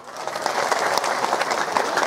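An audience at an outdoor gathering in Cimahi breaks into brief, lively clapping, a short burst of mixed hand claps close by.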